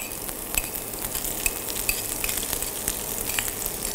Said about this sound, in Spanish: Y esto lo vamos salteando bien.